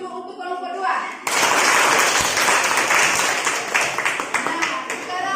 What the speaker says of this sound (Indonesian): Tepuk dulu untuk kelompok 2.